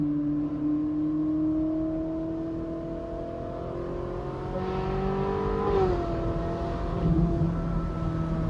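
A Ferrari 458 Spider's engine, paired with its dual-clutch transmission, hums and pulls steadily while driving, the pitch climbing slowly, dipping briefly at a shift, then carrying on under a smooth, moderately loud cabin drone.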